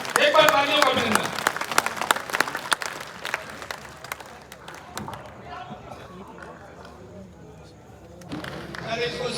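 Scattered clapping from a crowd, brisk at first and thinning out, with people talking and moving about in the background.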